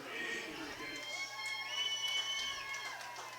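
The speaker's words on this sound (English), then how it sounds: "Little round of applause there for Taylor King on the catch." Crowd noise from the stands at a high school football game, Armstrong at Freeport, with cheering and shouting voices carrying across the field rather than distinct clapping.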